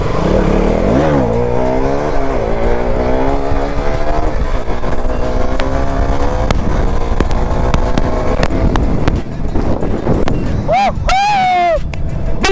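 A ZX-10R-tyred KTM Duke motorcycle revs hard through the gears during a wheelie, its engine note climbing and dropping in long sweeps, loud and close with wind noise, up to fourth gear.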